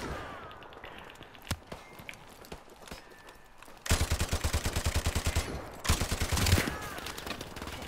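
Video game gunfire: a few sharp single shots early on, then two dense bursts of rapid automatic fire, loud and close, with no talking.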